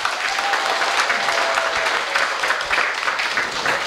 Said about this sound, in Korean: 여러분들의 뜨거운 박수 한번 보내시 바랍니다.